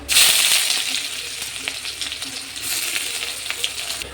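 Chopped onion dropped into hot oil with dried red chilli, bay leaf and whole cumin, bursting into a loud hiss that settles into a steady crackling sizzle, with a second surge of frying near the end.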